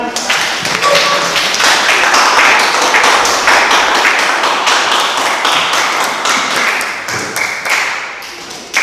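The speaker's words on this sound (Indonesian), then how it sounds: "bisa kembali tepuk tangan" Applause breaks out in a classroom at a teaching practice session, a dense, steady clapping from a group of people that carries on for several seconds, close and fairly loud, before tapering off.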